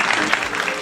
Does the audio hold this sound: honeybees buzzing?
no